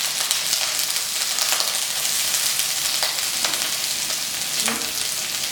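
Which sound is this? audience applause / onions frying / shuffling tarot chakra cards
onions frying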